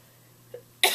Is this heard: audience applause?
no